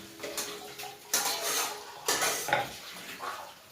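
A spoon scrapes and clanks around a pan while onion chutney is sautéed, in repeated close bursts of scraping and stirring with a faint sizzle underneath.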